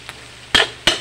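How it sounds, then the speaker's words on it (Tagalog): Pansit bukid ingredients with chorizo are sautéed in a pan: two loud, close metallic scrapes of a spatula against the pan, preceded by a faint tap, over a low background hum. "Igisa mo na lahat ng ingredients."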